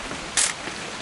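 A sharp camera shutter click in a video game, one brief bright snap standing out against a steady background hiss of light rain.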